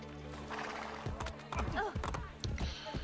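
Horse hooves clop in Assassin's Creed Brotherhood, with a brief whinny and steady game music humming underneath, the hoofbeats coming in quick, close bursts over about three seconds.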